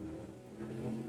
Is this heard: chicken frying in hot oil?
no